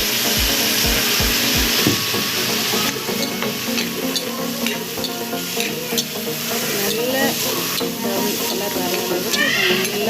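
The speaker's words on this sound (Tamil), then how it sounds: "ஆனியனை பாருங்கள் இந்த அளவுக்கு நீங்கள் நல்லா வெங்காயத்தை ஃப்ரை பண்ணிக்கணும்" Onions frying in oil in a pan for a radish fry, a loud continuous sizzle with spoon scrapes and stirring knocks close by, a few sharp taps at the start.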